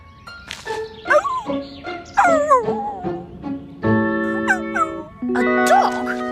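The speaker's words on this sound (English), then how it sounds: "A dog? Wow!" A cartoon dog yips, whimpers and lets out long tonal howl-like whines in a quick, lively series, loud and close, with a voice briefly in the mix.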